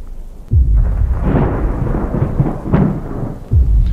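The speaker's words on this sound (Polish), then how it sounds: "Mi się wydaje, że coś te grzmoty odznaczają," Thunder rolls through the horror video game Slender Mansion, a deep, close rumble that swells in at the start and surges again near the end, with no voices over it.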